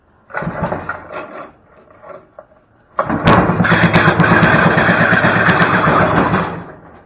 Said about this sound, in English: It runs. That's a pull start. Recoil squealing at us.